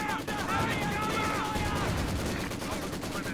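Company of Heroes 2 multiplayer match in which a Maxim machine gun fires amid other World War II weapons: dense, continuous bursts of gunfire with sporadic louder shots, heard under a commentator's talk.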